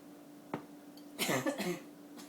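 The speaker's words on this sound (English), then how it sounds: "It's making me cough" A person coughs a few times up close, irritated by degreaser spray, a short single cough followed by a harsher burst of two or three coughs.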